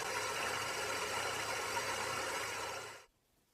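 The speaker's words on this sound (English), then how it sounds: "the motor gradually begins to reach a steady speed" An electric motor turning on ball bearings hums and whirs at a steady speed, loud and even with a constant mechanical buzz, then cuts off abruptly near the end.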